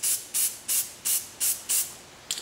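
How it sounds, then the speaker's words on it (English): Short bursts of black spray paint from an aerosol can around a stencil, six even hissing puffs in a steady rhythm followed by a brief final spurt, close and loud with no talking. "remember to make sure to spray down because you don't want any black going underneath your stencil"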